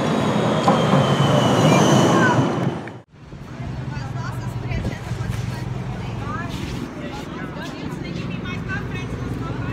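An Amsterdam tram rumbles and rattles along the rails, loud and close, with a sudden cut after a few seconds before the rolling noise and faint squeals continue.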